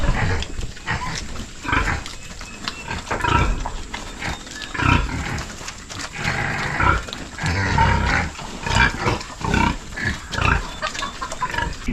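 Pigs eating water spinach at close range, with loud, continuous wet chomping, slurping and grunting that rises and falls in irregular bursts across the whole stretch.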